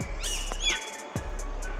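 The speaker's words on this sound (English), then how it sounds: "can hear the other birds in the background probably going off." Several birds chirp and call in quick bursts near a picnic area in the Cumberland Plain bushland, high bright tweets over a steady low hum, fairly close and clear.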